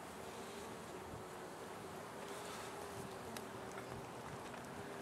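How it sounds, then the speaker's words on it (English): Honeybees inside an open hive give a soft, continuous hum at low level, steady throughout with no talk over it. "because there's so many bees in here."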